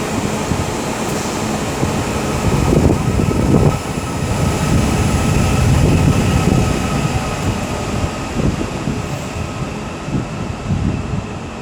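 A Northern class 331 electric train at Liverpool Lime Street gives a steady rumbling hum with station ambience and a faint high whine, heard alone at moderate loudness.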